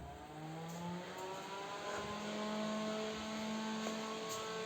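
An exhaust fan humming like a siren, a steady droning whine with multiple tonal bands that slowly rise and shift in pitch, continuous and fairly close without pauses; no voices.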